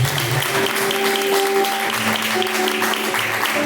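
A church congregation claps in praise, steady dense clapping throughout, with sustained tones from a song or instruments running underneath.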